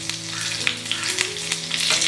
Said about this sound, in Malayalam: കറിവേപ്പിലയും ഉണക്കമുളകെല്ലാം മൂത്ത് വന്നിട്ടുണ്ട്